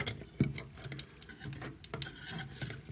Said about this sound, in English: We're just going to scrape around the outside and get all that lovely stuff to fall down.